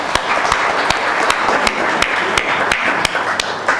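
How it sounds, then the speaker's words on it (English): At a social business design workshop, a small audience gives scattered, sharp claps that ring out one by one at a fairly steady pace over a faint background. "Let's give a big applause for him."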